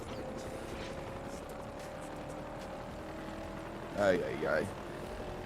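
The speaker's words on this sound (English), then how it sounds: "The helicopter is sabotaging my race." A helicopter hovers over the race track in a Forza racing game, a steady mechanical drone and rotor hum under engine noise while a player briefly exclaims.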